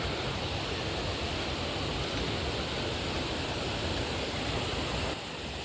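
Jalagamparai falls pours down in a loud, steady roar of water, a dense unbroken rush that holds at one level throughout and drops slightly just at the end, with no voices.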